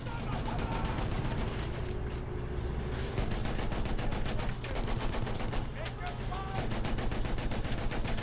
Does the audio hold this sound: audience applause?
no